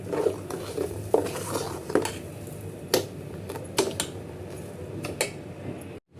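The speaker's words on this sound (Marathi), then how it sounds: "हे सगळं मिश्रण एकत्र करून घ्यायचं आहे" A spoon stirs a kadhi mixture of yogurt and sugar in a bowl, scraping and clinking against the sides in irregular strokes with occasional sharper knocks, fairly close.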